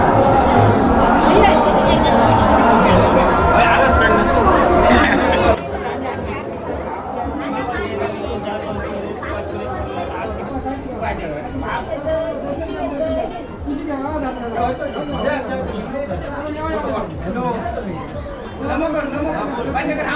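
A dense crowd chatters at the annual temple fair of Shri Dev Ravalnath temple in Oros, Sindhudurg. The babble is loudest for the first few seconds, then settles into a steady, close hubbub of many overlapping voices.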